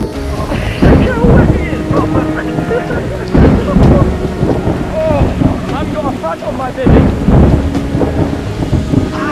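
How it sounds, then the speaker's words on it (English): A big storm rolls over a large lake in France, with loud rumbling thunder, steady rain and gusting wind buffeting the microphone in bursts throughout. "We were in for yet another storm, and this one looked big."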